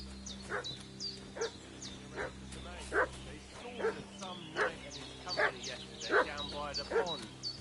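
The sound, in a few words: dog barking and fussing in video game Kingdom Come Deliverance II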